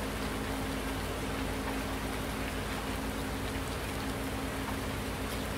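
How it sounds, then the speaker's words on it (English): Heavy rain pouring down in Farming Simulator 19, a dense and constant hiss of drops with no pauses and no voices. "Absolutely tipping it down at the moment."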